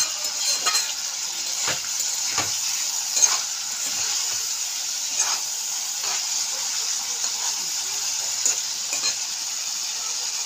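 Koi fish sautéing in spiced oil in a pan, giving a steady bright sizzle with soft intermittent stirring scrapes and no voices.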